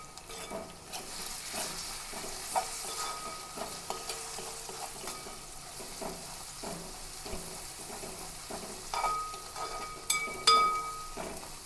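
Curry leaves and green chillies fry in hot oil in a pan with a close, steady sizzle, broken by scraping stirs and a few sharp clinks near the end; no one speaks.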